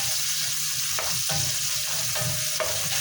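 Onion, garlic and pepper sizzle steadily in a frying pan, with a few short scraping stirs of a utensil cutting through the constant close hiss.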